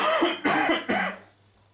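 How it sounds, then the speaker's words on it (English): Three quick harsh coughs in a row, close and fairly loud, during a tabletop wargame battle report, trailing off into quiet. "Excuse me for coughing all that."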